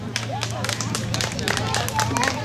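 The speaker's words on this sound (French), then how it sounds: "On applaudit." A studio audience claps after a joke on a French-language cooking talk show, a burst of scattered, fairly close hand claps over a low hum and murmured voices.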